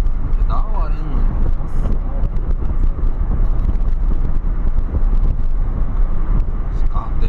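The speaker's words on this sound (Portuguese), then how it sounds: "os carros desce aí" Road traffic passing by, a continuous broad rumble of cars with wind buffeting the microphone, loud and close, while people talk over it.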